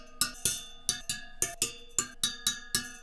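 Spokes on a 1971 Honda CT90 wheel tapped one after another, giving about a dozen clear, ringing metallic pings in an even rhythm, each with a short bell-like decay, close up with no talk.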